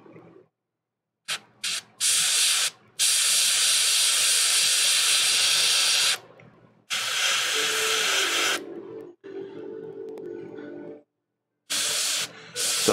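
Airbrush with a 0.3 nozzle spraying red paint onto a Warhammer 40K miniature, steady loud hissing bursts of several seconds each, separated by short silent pauses, with a fainter lower hiss in one stretch.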